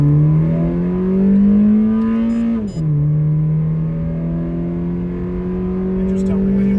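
Honda Fit fitted with a performance cam revving hard at full throttle, a loud rising engine drone that dips briefly as it shifts and then climbs again, with people talking over it.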